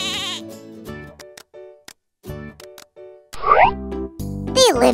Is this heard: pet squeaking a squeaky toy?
no